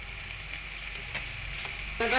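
Spice paste fries in mustard oil for a curry of pointed gourd cooked with sour yogurt. A steady, close hiss runs throughout, with a few small pops and a brief burst of sizzle near the end.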